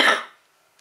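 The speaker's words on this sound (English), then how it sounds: "Yes, still have to cough." One short, sharp cough close by, fading quickly into quiet.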